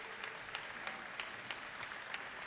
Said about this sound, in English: Well-deserved round of applause for both teams there